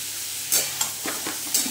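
Cutlet mixture is stirred and sautéed in a frying pan, a soft sizzle running throughout with several distinct scraping strokes of the spatula spaced through the short stretch.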